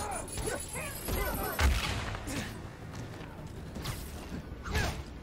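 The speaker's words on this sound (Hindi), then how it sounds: "चारों तरफ से फायरिंग कर रहे हैं।" Gunfire crackling from several directions in the Spider-Man Miles Morales video game, with scattered shots and mechanical clatter layered over a busy background mix at moderate level.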